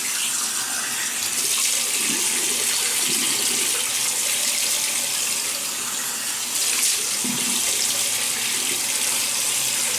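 Water runs steadily from a tap into a sink while the face is wetted before a shave, a close continuous splashing rush that holds for the whole stretch with a few small shifts.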